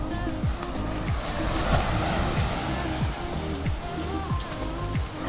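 Ocean surf rolls steadily onto a deserted beach at Tangalle, Sri Lanka, a continuous broad wash of breaking waves heard up close, mixed with a low rumble and repeating tonal whine.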